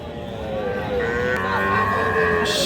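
Sahiwal bull calves low and moo at the Birampur cattle market, a drawn-out bellow rising over crowd murmur and market bustle.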